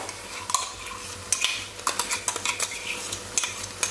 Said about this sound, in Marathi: मी इथे टोमॅटो प्युरी करून घेतलेली आहे, तर तीही आपण घालूया यात